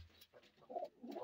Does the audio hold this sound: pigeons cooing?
yes